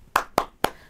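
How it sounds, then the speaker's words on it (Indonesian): Three sharp hand claps, evenly spaced, close and clear with nothing else heard, part of a tepuk semangat clap routine led in an online kindergarten class. "Kita mau buat gerakan tepuk semangat."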